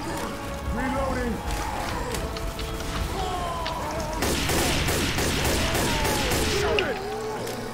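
Rapid gunfire bursts in the zombie shooter Left 4 Dead 2, with dense crackling volleys that grow heavier midway, layered over game noise and overlapping talk from players.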